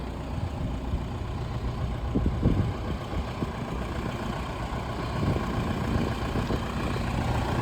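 Semi truck tractor engine with a Detroit inframe rebuild idling steadily at close range, a continuous low rumble with slight swells and no talk.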